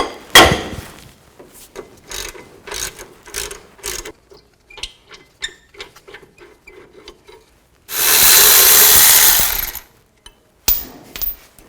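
Rear brake caliper bracket bolts on a 2000-06 Chevy Tahoe being loosened with a ratchet and 18mm socket: loud, close clicking pawl strokes in quick bursts, then a sustained rushing hiss for about two seconds before a few more clicks.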